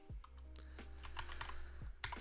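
Rapid typing on a computer keyboard while entering a list name in a Trello web app, a run of close, crisp key clicks with uneven rhythm and no talk.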